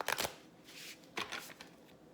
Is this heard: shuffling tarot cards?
yes